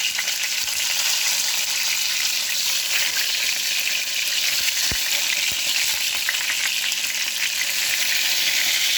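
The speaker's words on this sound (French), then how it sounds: "Je fais revenir d'abord mes aubergines." Halved aubergines fry in oil left over from cod, a dense, continuous sizzle held close for several seconds with a couple of faint clicks and no talking.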